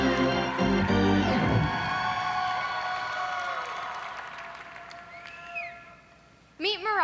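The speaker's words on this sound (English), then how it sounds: "Let's give these wonderful individuals another round of applause." Applause at a session of the 90th National FFA Convention & Expo, a large crowd clapping loudly at first and then gradually thinning and fading, with brief music tones rising near the end.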